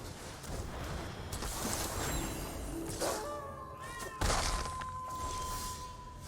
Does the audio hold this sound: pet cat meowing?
yes